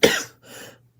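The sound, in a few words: cough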